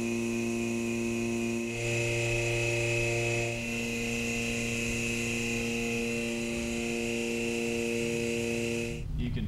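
A vacuum pump runs steadily beside a precast concrete septic tank under test, giving a constant tonal motor hum that shifts slightly in pitch and cuts off near the end.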